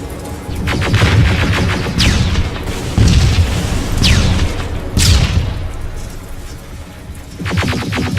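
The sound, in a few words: rockets and gunfire in the video game Terminator Resistance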